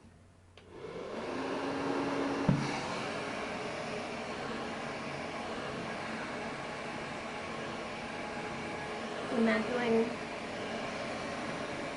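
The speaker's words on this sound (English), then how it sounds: "I'm gonna go ahead and blow it out with my handy dandy blow dryer." A steady whooshing hair dryer blows continuously close by, with a brief voice speaking near the end.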